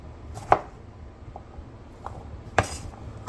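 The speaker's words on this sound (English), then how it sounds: "you're going to cube them nice and small so they'll cook nicely" A knife chops two potatoes into small cubes on a cutting board, producing a few sharp, close, isolated thunks spaced irregularly with quiet pauses between them.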